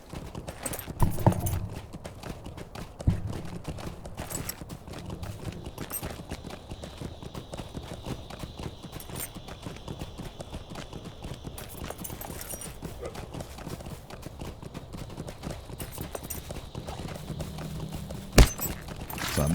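In the video game Lord of the Rings Online, a horse's hooves clip-clop in a fast, dense rhythm for a long stretch, mid-loud, with a few sharper knocks and only brief speech near the start.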